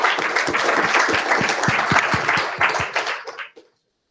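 An audience at a React London tech meetup held at The Guardian claps in a dense, energetic burst of applause that tapers into scattered claps and stops after a few seconds.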